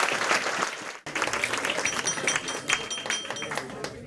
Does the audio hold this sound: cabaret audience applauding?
yes